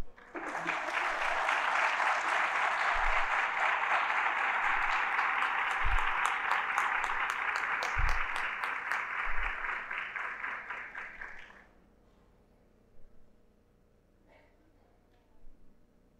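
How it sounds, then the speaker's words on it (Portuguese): Warm, sustained audience applause at a seminar lecture, loud and even for about eleven seconds, then cutting off into a quiet room with faint movement. "a quem eu peço calorosos aplausos"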